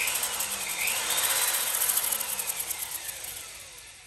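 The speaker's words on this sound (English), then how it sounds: "I hooked up a drill to the end of the speedo cable that was down at the transmission, and we're going to spin the drill" A power drill spinning the speedometer cable of a 1985 Chevrolet Caprice Classic from the transmission end, a steady close high-pitched whirring that swells slightly and then eases off near the end.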